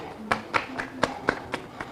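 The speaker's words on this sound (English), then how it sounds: "You can clap for yourself." A few people clap in a sparse, uneven rhythm at a music-industry interview, roughly seven distinct nearby claps spread over two seconds with quiet gaps between them.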